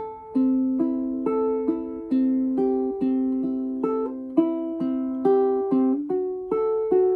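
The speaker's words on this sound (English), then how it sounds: "allow your fingers to not be in the chord in time, even if it sounds a bit like this." Ukulele finger-picking plays a slow House of the Rising Sun pattern of plucked notes, the chord changes slightly hesitant and uneven in timing, close and clear with no voices.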